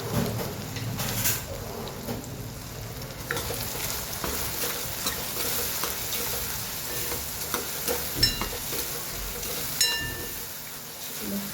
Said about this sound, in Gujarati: હળદર, મીઠું સરસ મિક્સ કરી દઈએ અને તેલ પર થવા દઈએ.